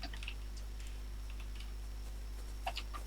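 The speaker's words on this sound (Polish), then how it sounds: "strasznie ci klawiaturę słychać" Computer keyboard typing picked up through a voice chat microphone during a Hurtworld session, faint scattered clicks and taps over a constant low electrical hum, with no talking.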